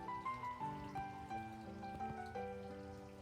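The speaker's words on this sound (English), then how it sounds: "and the rain barrel with the water running" Water runs steadily into a rain barrel in a home garden, a continuous trickle with ringing, tonal resonance throughout, close and moderately loud with no talking.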